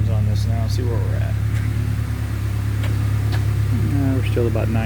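A 2003 Honda Accord DX sedan fitted with a Magnaflow exhaust idles steadily with a low, even drone close to the microphone while someone talks over it.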